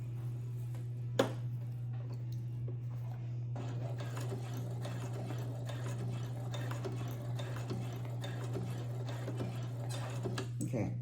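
A Brother sewing machine stitches the facing of a dress: a steady, close motor hum with a rapid, continuous run of needle clicks, pausing briefly once early on before running on.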